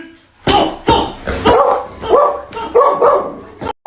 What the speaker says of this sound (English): This is my puppy dog.